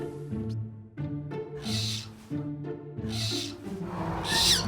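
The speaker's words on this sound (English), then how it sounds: "It did sound like a little bird." Repeated high-pitched chirping calls of a small, featherless bird stuck inside a bathroom ceiling, muffled and enclosed, coming in short bursts several times in a row.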